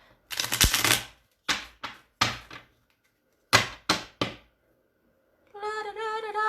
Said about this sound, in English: Gotta shuffle the cards, gotta shuffle the cards.